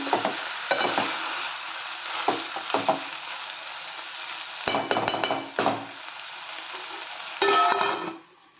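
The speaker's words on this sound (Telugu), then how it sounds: "ఇది అంతా కలిపేటట్టు ఒకసారి బాగా కలుపుకొని మంచిగా అయితే ఫ్రై చేసుకోవాలి" Boiled cluster beans are stirred and fried in a pan. Continuous frying sizzle runs under repeated scraping and clinking of a spoon against the pan, with a few sharper knocks.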